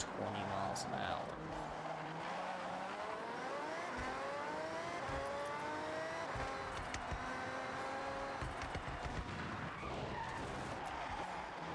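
A car in the Forza Horizon 6 racing game skids and slides through turns, with steady engine drone, rising and falling pitch, and tyre scrub running throughout while someone talks over it.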